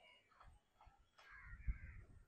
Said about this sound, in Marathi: कावळा, बघा कावळा